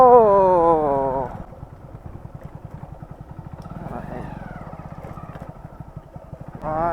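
A Hero Splendor motorcycle rides along a narrow road beside a river, its engine putting out a steady low pulsing putter close by, with a voice talking over the start and end.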